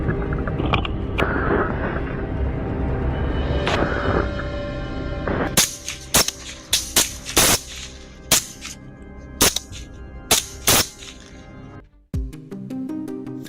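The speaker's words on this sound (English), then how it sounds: "how many shots did you count in that final barrage?" A rifle fires rapidly at wild boar in a swampy wood, a barrage of about a dozen sharp, loud shots at irregular intervals that comes after a stretch of rough rustling and commotion.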